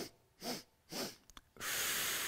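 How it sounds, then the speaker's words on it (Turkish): Short, sharp breaths during a neck and back exercise: two quick puffs close to the microphone, a brief catch, then a long forceful exhale that rushes out loudly to the end. "Üç tane kısa nefes alıyoruz"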